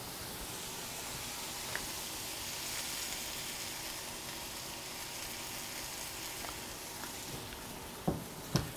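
Onions sizzle and fry steadily in a pan for caramelizing, a soft continuous hiss with a few faint clinks and two sharper knocks near the end, no talking.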